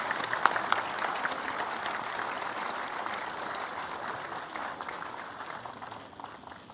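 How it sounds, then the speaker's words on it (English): An audience in Zorawar Hall applauds during an inaugural session, a steady dense clapping that slowly thins and fades toward the end. "Can we have a big round of applause, please?"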